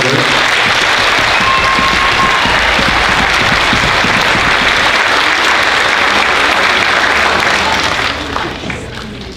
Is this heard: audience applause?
yes